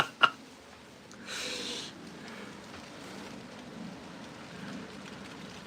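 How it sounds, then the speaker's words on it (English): Light rain falls outdoors as a soft, steady hiss, opening with a sharp click and a brief louder gust-like burst before settling into a faint continuous patter. "Bit of rain now, anyway."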